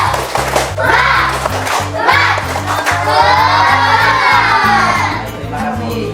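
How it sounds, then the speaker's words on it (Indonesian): Children in a Grade 5 classroom clap in a steady rhythmic pattern while shouting a lively chant together, loud and close, with crowd-like cheering rising over the beat. "silakan kita tepuk semangat dulu"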